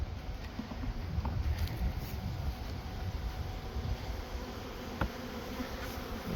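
A steady, low buzzing of many honey bees hums continuously, with a few faint clicks and knocks nearby.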